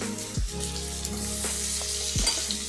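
Onion, capsicum and tomato with turmeric frying loudly in a pan, a steady hissing sizzle with close scraping stir strokes, a low cooking hum beneath and no voices.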